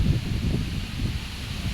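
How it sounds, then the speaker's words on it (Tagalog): Strong wind buffets the microphone outdoors in Palo Alto in a steady low roar, with gusty rumbling throughout and no clear voices. "Lakas ng hangin, guys!"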